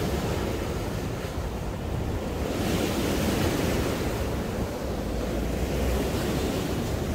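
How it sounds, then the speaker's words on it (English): Sea waves at Blackpool wash up onto seafront steps as the tide comes in, a steady dense roar of surf mixed with wind buffeting the microphone, continuous with no voices. "see these waves move in on the steps"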